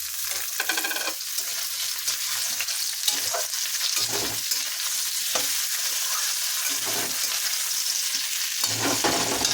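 Potatoes and tomato fry together in a pan over a continuous close sizzle, with repeated scraping stirs rising above it throughout.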